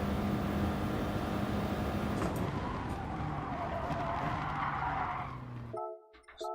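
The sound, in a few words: car braking too late, tires skidding, GT Sport video game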